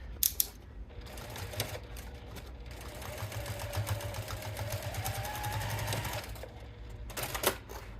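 A sewing machine stitches clear vinyl with pink thread, a rapid mechanical whirring run of needle strokes, close and steady, framed by a few sharp clicks at start and end.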